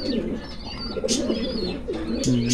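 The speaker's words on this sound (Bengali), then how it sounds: "সারানপুরি কবুতর।" Saharanpuri pigeons at a high-flying loft giving repeated low rolling coos, close and clear, with a few faint higher chirps above.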